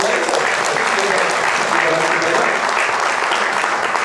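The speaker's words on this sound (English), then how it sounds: "let's have a round of applause for your" An audience at a Foundation Day event gives a sustained round of applause, dense and steady from start to finish with no pauses.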